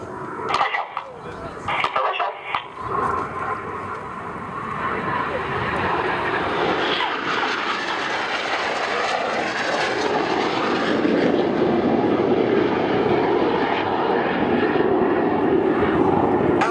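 Red Arrows-style display team jets performing an opposition barrel roll at an airshow, a loud sustained jet roar building and holding steady overhead, with brief crowd or commentary sounds at the start.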